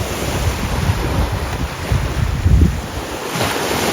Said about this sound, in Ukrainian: через хвилі взагалі нічого не чутно